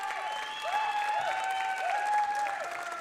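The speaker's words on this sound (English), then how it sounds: "the Irish contingent in the bleacher seats behind us, cheering on Fionn O'Longig as he is introduced to play" Irish supporters in bleacher seats at a Scotland vs Ireland EPFA Home Nations match applaud and cheer a substitute coming on, steady clapping at moderate distance with tonal chants riding over it, no speech.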